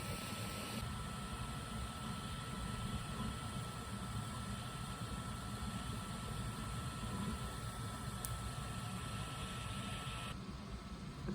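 A DERP 3550 3D printer runs with a soft, continuous mechanical whir and faint motor hum, steady and quiet throughout with no pauses.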